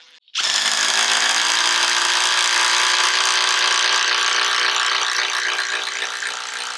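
A Milwaukee Fuel Gen 3 or DeWalt 12V Xtreme impact driver drives an 8-inch timber lock screw into wood. After a brief quiet start it holds one loud, sustained, buzzing hammering whine for about six seconds, close by and with no talking.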